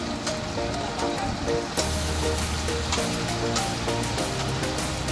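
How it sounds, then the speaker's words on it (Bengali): Rain falls in a steady, dense patter and splash close by. A low hum joins partway through, and no talk is heard. "বৃষ্টি নামতেছে"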